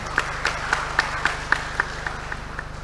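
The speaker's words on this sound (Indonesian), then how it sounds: "Tepuk tangan untuk masyarakat Kabupaten Blitar." Applause at an outdoor mass corn planting event in Blitar Regency, a faint spread of crowd clapping under a steady low hum, with a few sharper claps standing out in an even, roughly regular rhythm.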